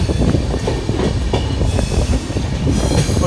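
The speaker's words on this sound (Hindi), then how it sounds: "और ट्रेन देखो कैसे मुड़ रही है, आगे से पूरा सीन आ रहा है नज़र।" A passenger train rolls through a curve on the line between Beas and Sirhind stations in Punjab, wheels clattering and grinding steadily and loudly at close range, with no voices.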